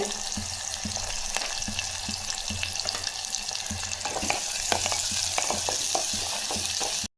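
Onions and two dried red chillies sautéing in a hot pan for a Tamil drumstick-leaf dish: steady close sizzle and crackle throughout, with frequent scraping stir strokes, no talk.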